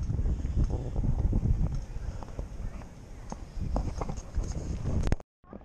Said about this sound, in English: people are out riding them horses